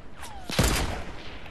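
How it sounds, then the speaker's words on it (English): A single sniper shot rings out in the video game Fortnite, a sharp loud crack followed by a short whizzing tail and a fading echo, heard alone. "We're getting sniped at."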